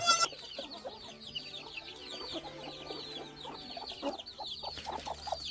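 Several chickens cluck and chatter continuously nearby, with overlapping calls and a few louder squawks over a steady outdoor background.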